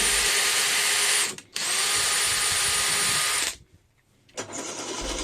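A power drill boring holes in metal for disc supports on a homemade lateral-raise shoulder machine: a loud, steady high whine held for several seconds, a brief stop, another long run, a pause, then it spins up again.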